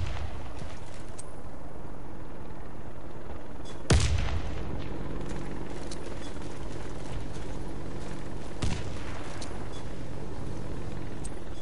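Video game gunfire with rifles and grenades: two sharp, loud blasts stand out over a continuous rumbling battle din of distant shots.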